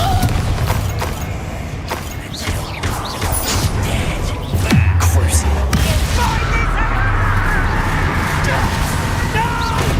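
Confringo fire spell explosions in the video game Hogwarts Legacy: dense, continuous booming blasts and crashing impacts that stay loud throughout, with a heavier burst near the middle and a character's voice now and then.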